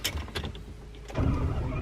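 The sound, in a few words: Ferrari F12 engine starting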